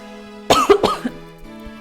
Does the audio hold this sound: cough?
yes